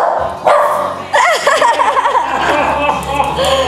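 A dog barks a couple of times up close, mixed in with voices and other household noise.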